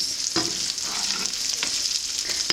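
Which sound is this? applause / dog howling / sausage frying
sausage frying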